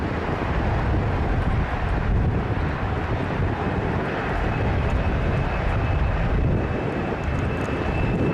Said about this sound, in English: This Boeing 747 destroying the terrain next to the runway while taking off.